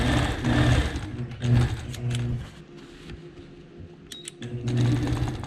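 A sewing machine stitching a quilting border design, running in several short bursts of rapid mechanical whirring separated by brief pauses, close and fairly loud.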